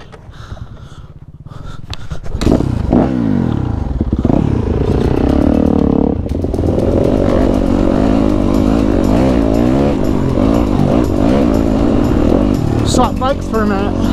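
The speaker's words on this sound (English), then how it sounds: "This is I think it's a 2019 YZ250F." A 2019 Yamaha YZ250F dirt bike engine running loud and close, with shifting revs and an idling, rising drone that fills the whole stretch, after a quieter moment at the start.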